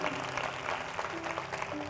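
Congregation clapping for the Lord at a church service, a dense, steady round of applause that holds at an even level throughout the short moment with no pause.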